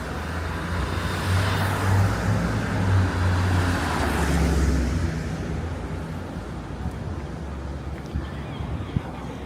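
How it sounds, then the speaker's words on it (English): Cars passing along a downtown street in New Haven, Connecticut, a steady broadband engine and tire rumble that swells around the middle and then fades, with faint voices in the background. "Just gonna wait for these cars to go through."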